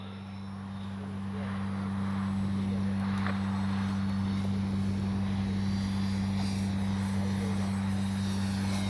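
A Bronco RC plane passes overhead with a steady propeller-engine drone, a strong low hum with continuous broadband wind noise, loud and unbroken throughout, no talk.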